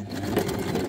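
A sewing machine backstitching through tiny paper scraps, a short close burst of fast mechanical whirring and needle chatter, with no talk.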